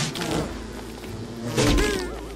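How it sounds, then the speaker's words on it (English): Killer bees in the Don't Starve: Shipwrecked video game give off a steady, fairly loud droning buzz that swells toward the end, with no talking over it. "I got all the killer bees out of there at least"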